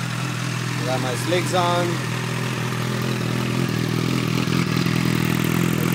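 A 2012 Honda CBR1000RR sport bike with a titanium exhaust idles close by, a steady mid-pitched engine drone with light clatter, while someone talks over it.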